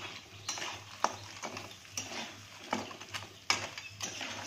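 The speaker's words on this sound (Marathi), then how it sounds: "सर्व खेकड्यांना मसाला लागेल अशा प्रकारे हे परतून घ्यायचे" Crabs are stir-fried in masala in a pan, with soft scraping and clinking of a spoon against the metal repeating at an irregular rhythm, quiet and close.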